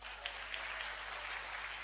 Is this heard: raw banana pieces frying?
no